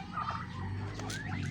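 A turkey being fed on a farm gobbles in a quick, quiet burst over a steady low background hum, with brief rattling calls standing out near the middle.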